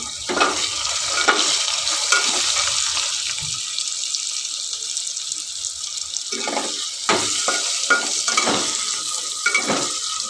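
Potatoes frying with turmeric in a pan, stirred now and then, with a steady close sizzle and intermittent scraping and clinking from utensils.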